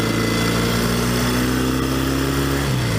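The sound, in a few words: engine of a vintage 1964 Royal Enfield Interceptor Mk1 motorcycle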